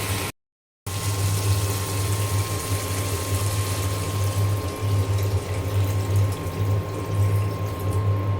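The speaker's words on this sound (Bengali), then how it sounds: "এখন আমি পরিমাণ মতো পানি দিয়ে দেব।" Water is poured into a pot of beef and potato curry, making a steady, continuous rushing flow that lasts several seconds after a brief cut, with no talking.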